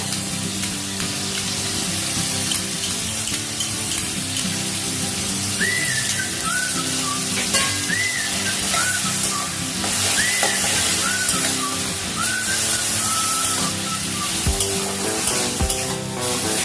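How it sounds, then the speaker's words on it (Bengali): Water lily stems (shapla) cook down in a pan over a medium flame, releasing a constant hissing sizzle of evaporating water with a few faint, brief whistling tones over it. "মিডিয়াম ফ্লেমে করে দেবো, যাতে শাপলার জলগুলো একদম শুকিয়ে যায়।"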